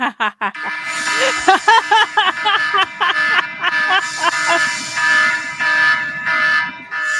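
A loud electronic alarm buzzer sounds in repeated pulsing bursts, stuttering quickly at first and then holding longer tones, filling the clip with no talk over it.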